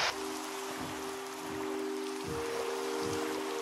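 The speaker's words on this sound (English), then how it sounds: "And it's raining." Steady rain hisses in a Minecraft game world, a soft even wash of falling drops with a faint sustained tone running underneath and no talking.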